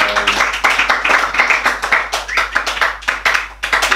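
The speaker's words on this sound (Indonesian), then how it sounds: "tepuk tangan dulu dong" Rhythmic group clapping at a talk show, even pulsing claps keeping a steady beat, fairly close and loud, with faint voices underneath.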